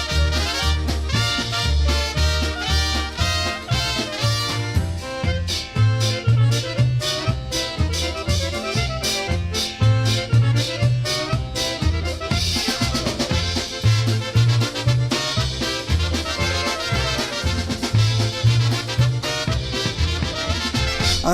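Polka tune played by a full, loud band with a bouncing oom-pah bass and steady beat, running continuously with no talking over it.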